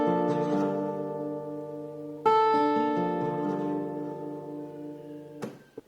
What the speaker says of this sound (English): So now our chord will be a minor 9 chord.